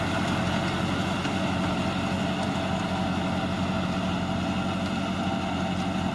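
A John Deere 5210 tractor pulls a Bengal pocket rotavator through a field, its diesel engine droning at a steady, loud, close level for the whole stretch, with no talking and no change in pace.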